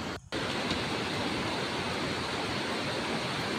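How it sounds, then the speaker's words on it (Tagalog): Steady broadband rush of a small waterfall among rocks, constant and fairly loud, with a brief dropout near the start and no voices. "May falls na maliit dun."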